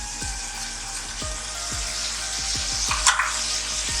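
Red chili powder, two teaspoons, dropped into a sizzling pan while cooking an arvi (taro root) gosht curry, with constant hissing frying, quiet rhythmic stirring taps and a brief clink near the end.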